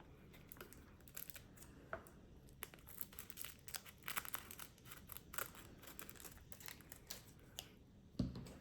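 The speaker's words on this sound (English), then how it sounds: "I'm going to get scissors to cut this so I don't risk bending the card." Quiet, irregular crinkling and snipping of plastic wrapping on a Pokémon card, cut with scissors, with scattered sharp cuts and rustles and a louder clunk at the end.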